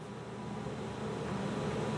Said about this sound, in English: I have a big HIPAA filter that cleans the air as it comes out.